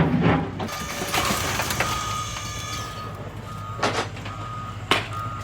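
Reversing beeps from a junk-removal truck at a dump, a steady repeating tone sounding over low engine rumble and scattered clatter, moderately close.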